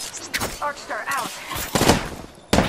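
Bursts of gunfire in the battle royale game Apex Legends, several sharp reports scattered across the moment, with a player's voice talking over the shooting.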